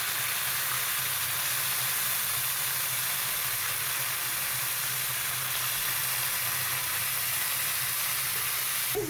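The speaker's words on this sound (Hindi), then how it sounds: "हमने अच्छी तरीके से अदरक लहसुन के साथ अपना कीमा फ्राई कर लिया है" Minced meat keema frying with ginger and garlic on a tawa, a steady broad sizzle and hiss that holds evenly throughout without pause.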